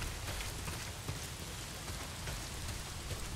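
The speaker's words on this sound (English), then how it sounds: "Not if it's pissing down rain." Heavy rain pours steadily in the video game Days Gone, a dense, even hiss of drops drumming on surfaces that stays loud and unbroken throughout, with no voices over it.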